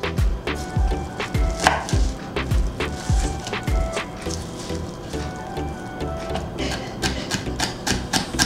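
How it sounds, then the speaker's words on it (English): Knife chopping parsley on a board for a Greek salad, a steady run of sharp close taps with a few quicker bursts, plus faint background noise throughout. "Chopped parsley."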